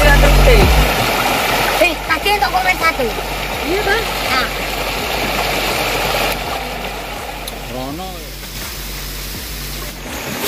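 A shallow, rocky river on the slope of Merapi rushes in a continuous broad wash, with an engine-like rumble underneath, while voices talk over it.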